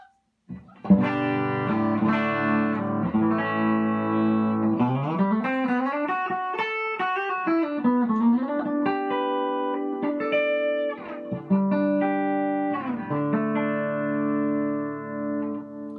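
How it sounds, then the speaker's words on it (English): Clean electric guitar tone from Mad Hatter Super Shredder pickups: chords and melodic runs with bends, played steadily and close for the full stretch, ringing clearly with no talking. "we'll demonstrate first the clean tones, and we'll go through each setting"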